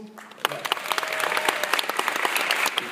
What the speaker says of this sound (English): So I think we should give him a round of applause.